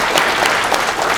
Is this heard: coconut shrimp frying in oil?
no